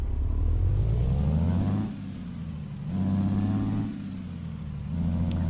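A Freightliner truck drives along, its engine droning and rising with gear changes while air brakes hiss in short releases between pulls, heard from inside the cab without talk.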